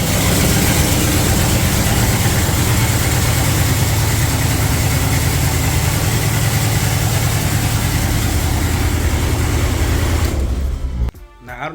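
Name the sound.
Cadillac lowrider engine idling too loudly, possible exhaust leak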